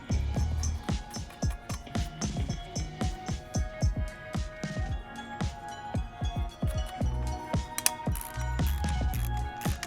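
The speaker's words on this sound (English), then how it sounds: "Now I tighten back up by hand because I don't want to over tighten with that torque driver there" A hand ratchet tightening mower blade nuts, a steady run of close, crisp metallic clicks in uneven bursts, loud and without talk.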